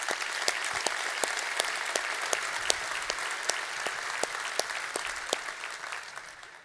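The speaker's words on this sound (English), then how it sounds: "let's give him a welcoming round of applause" Audience applause at a State of the City address, steady dense clapping from a large crowd, with sharper individual claps standing out and fading slightly toward the end.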